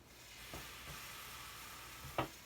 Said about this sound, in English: So there you see we got a little sizzle.